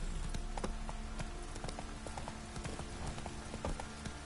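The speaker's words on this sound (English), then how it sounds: "Whoa there, Roach." Hooves of the horse in the video game The Witcher 3 clip-clopping in a quick, even rhythm, fairly faint, over a steady background ambience.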